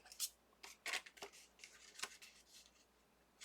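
Scissors snip through paper while cutting out snow people shapes for a Sizzix snow family craft, a quiet run of short crisp cuts close by, irregularly spaced, with no talk.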